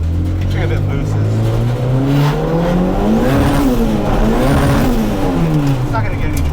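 A 1992 turbo Honda Civic EG accelerates hard and loud, its engine note rising, dipping, then climbing again through the gears, heard from inside the car.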